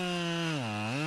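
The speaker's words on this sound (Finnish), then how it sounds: "Mutta mennään vielä tuolla isommalla sahalla." A larger chainsaw cutting into a tree outdoors, its engine droning steadily and loud with a brief dip in pitch as it bogs down in the wood, then recovering.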